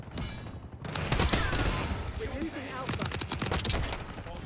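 Rapid suppressed gunfire crackles through a Black Ops 6 match, dense bursts of shots layered with game effects, while a player talks over the action.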